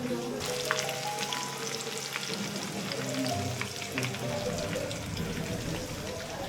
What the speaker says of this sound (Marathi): नंतर वरतून बेसन ॲड केलं आणि असा मिरची फ्राय पण तयार होते